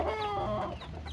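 A hen clucks close by in a backyard flock, giving a short run of throaty, warbling clucks.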